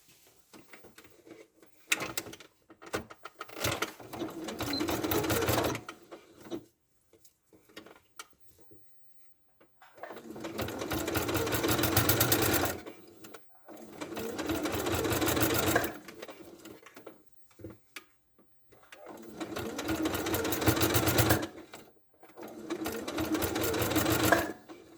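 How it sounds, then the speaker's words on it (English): A sewing machine stitching the face onto a handmade ladybird toy, running in several bursts of fast, even mechanical whirring separated by pauses and small clicks as the fabric is adjusted, close up with no talking. "And I'm going to sew from here and do the other side."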